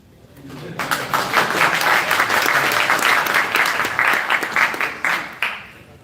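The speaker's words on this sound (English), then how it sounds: "You could clap for them." A live audience claps at an event in Brooklyn: dense, sustained applause that starts abruptly, swells and stays loud for several seconds before tapering slightly.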